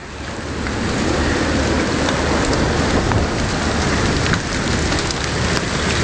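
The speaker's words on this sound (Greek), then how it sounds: "Αυτή τη στιγμή δείχνει πάρα πολύ χαλάζι." Heavy hail pelting down in a storm on Rhodes, a dense, loud, continuous roar of impacts with scattered sharper hits, close and unbroken.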